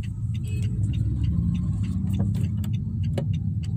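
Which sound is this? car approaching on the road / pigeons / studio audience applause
car approaching on the road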